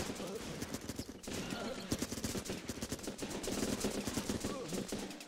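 Rapid rifle gunfire in the Running with Rifles video game, with dense bursts of shots crackling continuously at moderate loudness and a voice talking over part of it.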